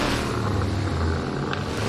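Loud, continuous car engine roar in Assetto Corsa traffic mode, with a revving, buzzing texture, several motors droning together without pause.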